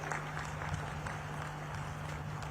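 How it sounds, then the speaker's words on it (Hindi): A rally crowd claps loudly, giving a continuous wash of applause at steady volume over a faint background hum. "एक बार हाथ उठाकर जोर से ताली बजाइए भाइयों बहनों"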